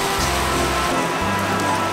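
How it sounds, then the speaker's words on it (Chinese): Heavy rain pours down in Osaka during its biggest downpour of 2023, a steady close wash of hiss across the whole clip with a low rumble underneath. "这是今年最大的下雨，大阪2023年最大的"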